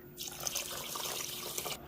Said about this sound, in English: I'm going to go ahead and add my water.